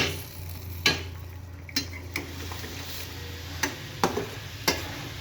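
Egg curry with green chili cooking in a pan, a faint simmering hiss broken by scattered utensil clinks and scrapes against the pan, no talk.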